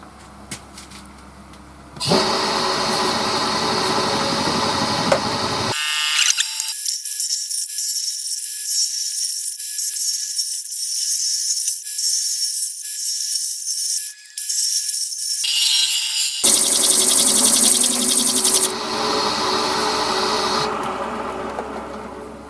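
A roughing gouge cuts a wood blank on a lathe, a steady whirring, scraping drone that starts after a quiet moment and continues evenly, sounding muffled and thin for a stretch in the middle.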